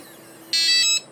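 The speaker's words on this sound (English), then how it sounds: "If you want to turn off the beep, you can hold down the 1 button." An RV door lock keypad gives a single electronic beep, loud and steady, for about half a second against quiet background hiss.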